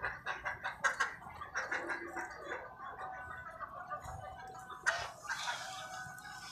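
Chickens cluck in quick, uneven bursts close by at their feed and water, with a few sharper squawks rising near the end.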